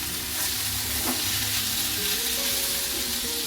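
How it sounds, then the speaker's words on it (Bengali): Spice masala for a mutton curry is stir-fried in a pan, giving a close, steady sizzle with stirring and scraping, heard alone. "এখানটায় মটন করব, তা মশলাটা কষাচ্ছি।"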